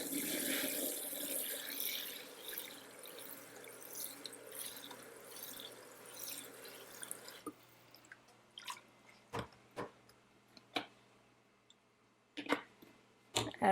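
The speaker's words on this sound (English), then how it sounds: "And then I'm going to add some water to this." Water pours into a pot of brown stew chicken, a steady splashing stream for several seconds, then quiet with scattered drips, stirring squishes and small clinks, fairly faint and without talk.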